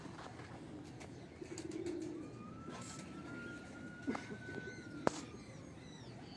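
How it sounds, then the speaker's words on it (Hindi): Don breed pigeons on a rooftop give soft, low coos amid outdoor ambience, with a short burst of cooing early on, a thin whistle-like tone drifting across the middle and a sharp click near the end. "इस तरह ये भी डॉन ब्रीड का कबूतर जो है हीरा आपको दिखा रहा है।"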